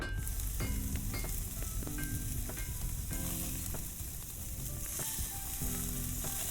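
Food sizzles and fries steadily in a pan in the Love and Deepspace video game, a continuous hiss with faint stirring ticks and no pauses.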